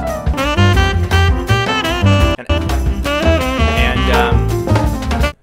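A jazz recording plays back loudly as a reference track, a full band with dense harmonic horn and rhythm parts, one brief dropout midway, then continuing until an abrupt stop.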